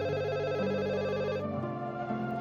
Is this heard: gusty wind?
no